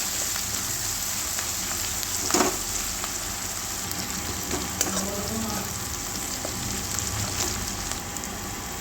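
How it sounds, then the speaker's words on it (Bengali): Broken chillies with salt fry in hot oil in a pan, giving a steady, close sizzle with a few sharp crackles and spatters throughout. "ভালো করে ভেজে নেব।"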